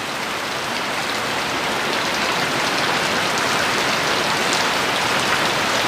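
Rain pours down steadily outdoors where a drone pilot stands, a dense, even hiss of drops hitting surfaces, loud and unbroken throughout.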